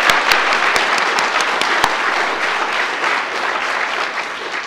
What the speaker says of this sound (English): I'd like you to clap again.